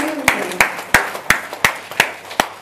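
Sparse, evenly spaced hand claps, about seven sharp strikes in a few seconds, heard close with no speech over them, like a small audience clapping on cue.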